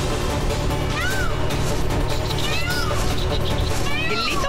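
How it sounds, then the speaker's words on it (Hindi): A cat meows several times in short rising and falling calls, clearly audible over a busy backdrop of dramatic music and sound effects, with a voice also present. "बिल्ली तो मैं ही पकड़ूंगा मयूर जी।"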